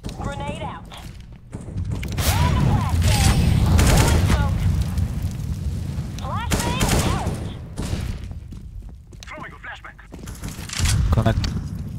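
A grenade blast and bursts of gunfire in Counter-Strike on the Mirage map, loud booms and rapid shots rolling through the clip with footsteps and voices talking over the action.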